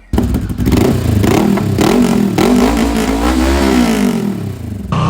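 A Moto Guzzi V7 Sport motorcycle engine revs loud and close, pitch climbing and falling through several throttle sweeps with a rough mechanical clatter, then easing off at the end.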